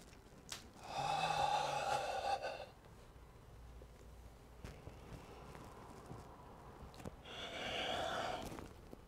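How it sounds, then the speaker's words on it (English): During a yoga session, long deep breaths come in two slow, drawn-out swells several seconds apart, close and soft, with quiet pauses and small shuffling sounds between them. "Breathing in deeply."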